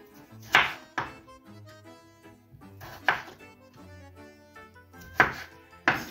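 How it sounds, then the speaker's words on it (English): Potatoes being cut into quarters on a cutting board before boiling for garlic mashed potatoes: four separate knife chops with sharp thunks against the board, spaced unevenly, close and clear with no talking. "So we'll start off by cutting this. I want to cut them into four before when we boil them."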